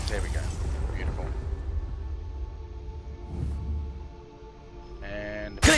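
A Confringo fire spell blasting in the Hogwarts Legacy video game, a deep rumbling boom that swells and fades over several seconds, with a sharp burst near the end and a voice speaking over the start.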